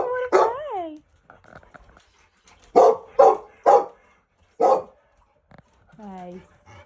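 A playful dog barks in short sharp bursts, a few loud yips close by, mixed with whimpering and excited high-pitched human voices greeting the dogs.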